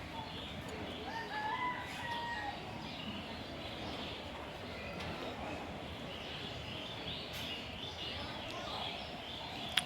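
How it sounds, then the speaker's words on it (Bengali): Myna birds scuffle and squabble inside a cage, a continuous busy mix of harsh calls, squawks and wing flutter at moderate level with a brief sharp sound at the very end. "খাঁচায় যে এখন মারামারি করবে। দেখেন মারামারি আর বন্ধ হবে না ওদের।"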